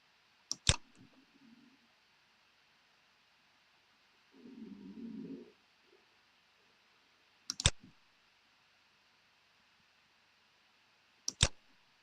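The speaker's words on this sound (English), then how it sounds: "So I'm going to do a left mouse click and then a right mouse click to close it" Three sharp, isolated computer mouse clicks spaced several seconds apart, close and crisp, with a soft low rumble in between against near silence.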